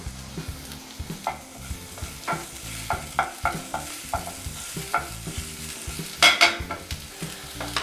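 Shallots and chopped chilli fry in a pan for a chilli and prawn linguine, a steady close sizzle broken by repeated scraping stir strokes and a louder clatter near the end, with no talking.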